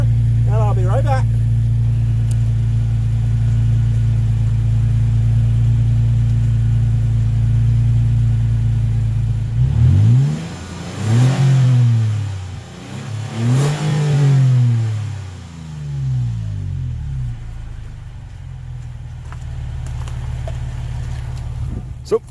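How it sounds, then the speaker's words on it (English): Engine of a 2019 Toyota Tacoma TRD Pro, first a steady low idle rumble, then several sharp revs that rise and fall through the exhaust, settling back to idle. "So that was the sound of the exhaust."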